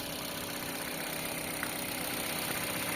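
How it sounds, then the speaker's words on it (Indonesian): A Mitsubishi Xpander GLS with about 134,000 km idles steadily and smoothly, a constant low engine hum with no revs or breaks, heard alone. "Untuk mesinnya sendiri ini masih terbilang halus ya teman-teman, dengan kondisi kilometer 134 ribuan ya teman-teman"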